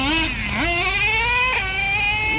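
A Traxxas Nitro Revo 3.3 RC truck's nitro engine screams loudly and close, pitch climbing through rising revs with two quick dips and recoveries as it shifts on a two-speed run.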